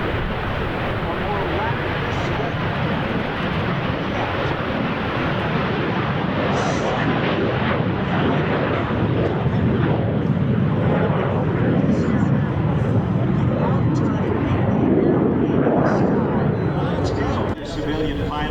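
A MiG-17 jet fighter roars past at an airshow, a loud continuous jet rumble and rush that swells and fades over the run, with an announcer talking over it throughout.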